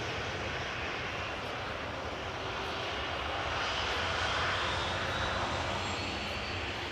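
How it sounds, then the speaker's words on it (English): An EasyJet Airbus A320 jet airliner at Amsterdam Schiphol Airport gives a steady, broad engine roar that holds evenly throughout and swells slightly midway, heard from a moderate distance. "EasyJet A320 that has arrived from Edinburgh"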